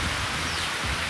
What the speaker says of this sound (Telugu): ఘోరంగా వాన ఎక్కువైంది.